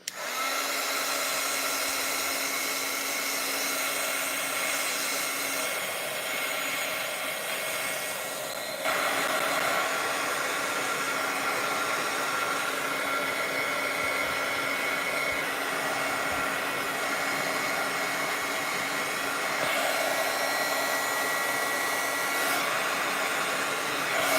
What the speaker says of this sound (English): I'm going to use my heat gun and just make sure that it feels like it's all dry